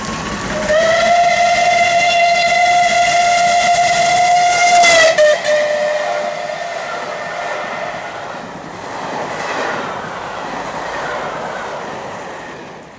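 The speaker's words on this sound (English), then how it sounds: "Clan Line is hauled into the station by a Class 67 locomotive ahead of a trip around the 83-mile Surrey Hills route" The Clan Line steam locomotive train arrives at London Victoria station, a loud, sustained whistle sounding for several seconds before cutting off, followed by the rumble and hiss of the train rolling in.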